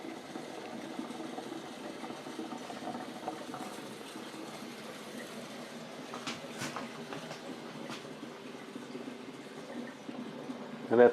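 Thumper jars in a sweet corn distillation setup bubble and rattle with a faint, steady, rapid chugging patter, fairly quiet and continuous, with a louder knock at the end.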